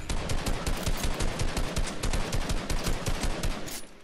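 Rapid automatic gunfire in the Fortnite battle royale video game, a dense continuous burst of loud close shots with sharp repeated cracks lasting several seconds and no talking.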